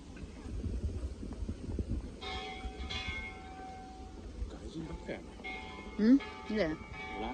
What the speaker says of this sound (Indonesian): Ini dia loncengnya, lonceng perdamaian dunianya ya.